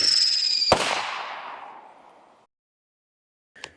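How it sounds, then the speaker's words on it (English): TNT black box ninja firework shell launches with a sharp crack, then a long crackling, hissing shower that fades over about two seconds, followed by silence and a brief faint pop near the end. "we're gonna go ahead and light off our black box ninja shell first"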